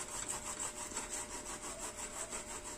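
An onion is rubbed against a sharp stainless steel grater to make onion juice, producing quiet, close, rhythmic rasping strokes about three per second, evenly repeated with no talk.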